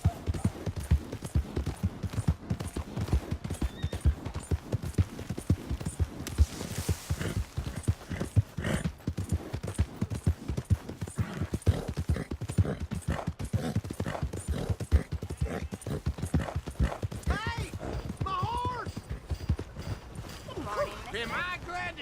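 Horse hooves clip-clop steadily in Red Dead Redemption 2, a close, even walking rhythm that runs the whole time, with a short whinny and character voices talking over it near the end.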